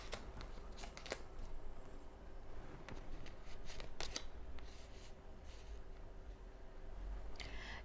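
Tarot cards handled during a reading, giving soft papery shuffling and sliding with a few crisp flicks and taps, quiet and close over a low steady background hum.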